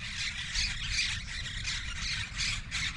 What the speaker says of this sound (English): Sounds like parakeets.